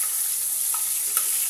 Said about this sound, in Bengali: এখন এই মাছগুলোকে আমি ফ্রাই প্যানে ভাজতেছি।